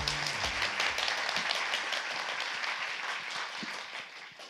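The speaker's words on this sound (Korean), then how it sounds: "큰 박수 부탁드리겠습니다" Audience at a stock market investment lecture applauds as a speaker is introduced, a fairly quiet, steady wash of clapping that gradually thins toward the end, with a brief low tone near the start.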